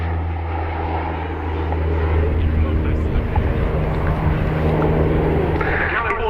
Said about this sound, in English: And there's a really good demonstration of the sort of agility. A fly past, banking 90 degrees one way,